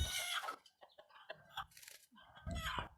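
Free-range village chickens cluck in short, scattered bursts, fairly close and quiet, with a few louder squawks toward the end.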